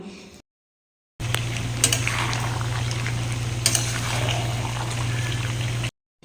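Semai cooks in a pot on the stove, bubbling and simmering steadily over a low, constant burner hum. There are occasional light clinks of a utensil against the pot, and the sound cuts out briefly near the start and end.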